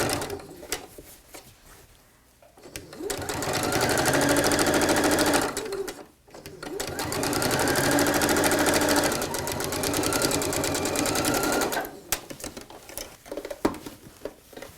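A sewing machine stitches a large jelly roll tote bag in two long runs of rapid, steady needle patter, with short pauses and fabric handling between them.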